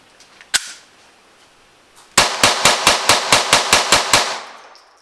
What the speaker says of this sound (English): I'm going to see if this thing will function okay with just rapid fire, so I'm just going to empty this mag.